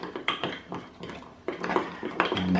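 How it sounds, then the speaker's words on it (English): A teaspoon clinks and scrapes against a mug while stirring chocolate cake batter, in uneven, irregular taps and scrapes up close, with short pauses between bursts. "grab a teaspoon or whatever you've got and just simply stir"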